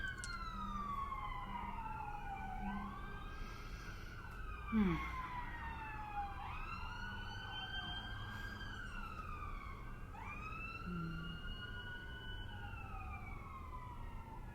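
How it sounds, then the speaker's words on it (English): Emergency sirens wail in repeating rising and falling sweeps as vehicles pass at a distance, fairly faint against low background rumble. "We always pause and send love when the sirens go by"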